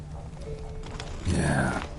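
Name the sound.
horse Roach galloping, from The Witcher 3 video game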